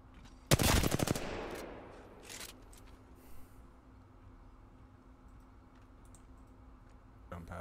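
Rapid automatic gunfire bursts out near and loud in a video game firefight, a dense rattling volley followed by a couple of shorter bursts and then quieter ambient game noise.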